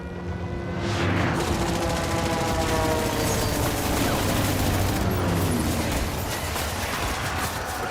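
Dense, sustained gunfire and rumbling explosions from the video game Death Stranding fill the whole stretch, loud and continuous, with a rolling low boom underneath.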